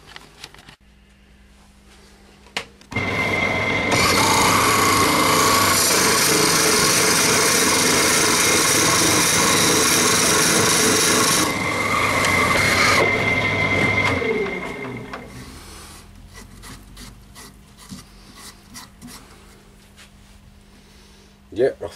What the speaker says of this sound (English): I'm putting the cuts on with the old spindle gouge.